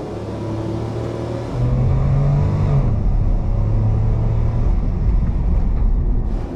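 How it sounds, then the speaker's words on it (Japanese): A Suzuki Super Carry's small 50-horsepower naturally aspirated three-cylinder engine drones steadily and then revs higher as it accelerates, a continuous rumbling hum with no voices. "この50馬力それから63ニュートンを発生する NA3 気筒エンジン踏んでみますね。"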